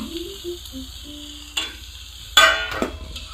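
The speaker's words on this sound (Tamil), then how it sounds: "பொரிச்சு வச்சுருக்க சிக்கனை சேர்த்துக்கலாம்." Fried chicken stirred into noodles in a hot pan, a soft steady sizzle with a few scraping stirs and sharp clacks of the utensil against the pan, close and without talk.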